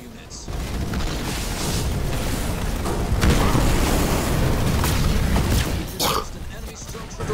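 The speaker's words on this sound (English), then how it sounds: "Make sure we do not keep bombing our base." Bombing explosions in the video game Halo Wars 2: a continuous rumble of heavy booms and blasts, loud and dense, with sharper bursts toward the end and voices mixed into the battle noise.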